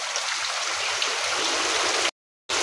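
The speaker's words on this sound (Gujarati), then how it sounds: "વરસાદ એકદમ ધોધમાર આવે છે" Heavy downpour pounds a farm field in a steady, dense hiss that fills the air close by, broken by a short silent gap near the end; no voices.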